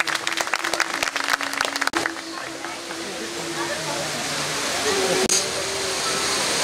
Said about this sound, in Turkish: Kendilerini yüksek alkışlarınızla sahneye davet ediyorum.